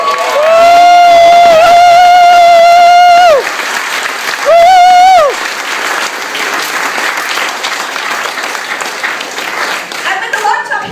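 Audience applause and cheering fill an Australian Greens Senate election-night rally in New South Wales, loud and sustained throughout, with a crowd roar; a strong whistle-like tone cuts in twice near the start.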